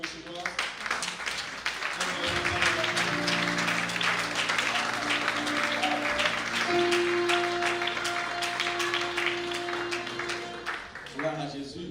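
Audience applause at a church convention session, sustained clapping from a crowd lasting most of the stretch, with steady musical tones and organ-like chords underneath.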